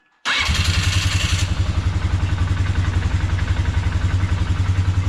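A small motor engine starts abruptly and settles into a loud, steady, close running rhythm with clattery pulsing, its throttle pressed and held without a pause.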